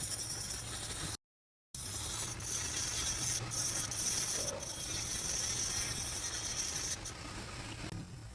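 A drill bit grinds against an iPhone CPU chip, a quiet close-up scraping whir with small ratcheting bits and one brief dropout, no one speaking.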